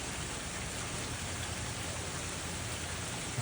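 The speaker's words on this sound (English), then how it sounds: "The next time you're bummed out on a rainy day, look how it was all programmed into the game." Steady, dense rain falling in a video game, a continuous loud hiss of drops with no pauses and no voices.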